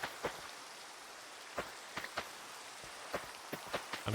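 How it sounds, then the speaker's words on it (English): Rain in Minecraft falls as a steady hiss with scattered sharp droplet ticks landing at irregular intervals, soft and even throughout with no voices. "They're planting seeds in the rain."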